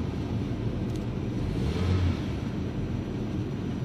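Opel Astra H 1.6 Enjoy petrol engine running with a steady, dense low rumble that swells slightly around the middle, close and continuous throughout with no talk.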